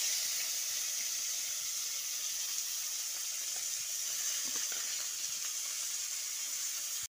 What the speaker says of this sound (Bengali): এবার দুটো পেঁয়াজ কুচিয়ে দিয়ে দিচ্ছি